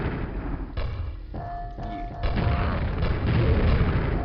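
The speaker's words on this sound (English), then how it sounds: "This is a grenade launcher I have here, and zombies." Booming grenade launcher blasts against zombies in the game Quake thud heavily over a rumbling, noisy game background, with a brief tonal whine in the middle and another loud burst late on.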